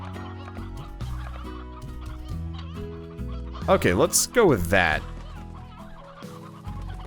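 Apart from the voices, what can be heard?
roosters clucking in Slime Rancher video game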